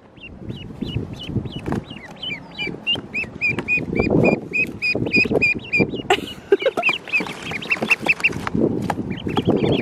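Young ducklings peep and quack repeatedly as they are taken outside for the first time, a busy chorus of high chirps and quacks with rustling and handling noise throughout.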